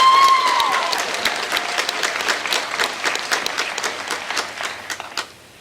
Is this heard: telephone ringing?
no